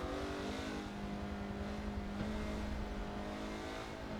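Caterham Superlight 5 engine lapping the Nordschleife, held at a steady high-revving drone with a faint tire sound, loud and close with no talking.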